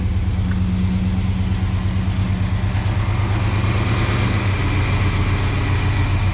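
A big block V8 in a Ford Ranchero, first out on the road after sitting for over twelve years, rumbles loud and close with a steady, throbbing low note and no talking.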